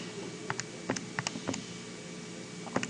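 Numbers typed on a keyboard produce scattered, soft key clicks at an irregular pace, moderately close over a faint steady background hum.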